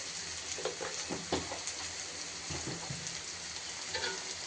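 Spices, cumin powder and turmeric with onion and green chili, frying in oil alongside ridge gourd and shrimp: a soft, steady sizzle and crackle with small pops and occasional stirring clatter, close and fairly quiet.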